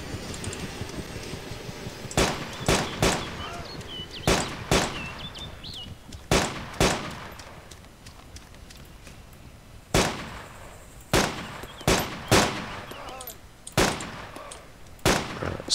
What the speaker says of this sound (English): That was actually pretty badass shooting from far away